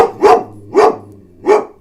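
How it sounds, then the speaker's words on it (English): A dog named Freya barks three times in an even rhythm, each bark close and loud and separated by short pauses. "That's my dog in the background, everyone."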